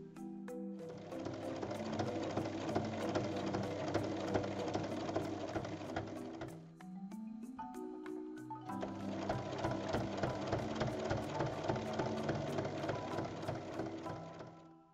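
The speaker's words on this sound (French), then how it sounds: "on va piquer en bas et au niveau des épingles pour créer deux poches de tailles différentes" Sewing machine stitching fabric for a bag, a steady rapid mechanical whir in two long runs separated by a short pause, close and alone.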